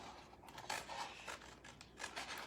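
Scissors snipping around a bird design on a transfer sheet meant for a pair of boots: quiet, close, irregular crisp cuts and small mechanical clicks in a near-silent room.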